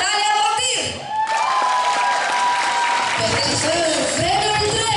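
Audience at a children's singing contest, Bălți Little Star 2011, breaking into applause and cheers that swell and hold steady under an announcer's voice and music.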